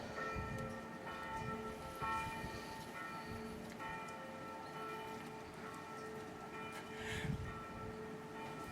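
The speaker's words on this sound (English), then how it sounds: "The bells! The bells!" Church bells ring steadily with sustained overlapping tones, somewhat distant, over a low background rumble.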